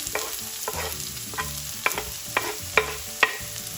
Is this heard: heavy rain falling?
no